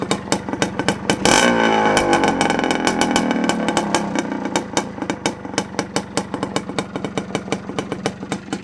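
A 1979 Honda CR250R Elsinore two-stroke motorcycle engine revs hard at close range, climbing to a loud blare and then settling into a fast, crackling, popping idle rhythm.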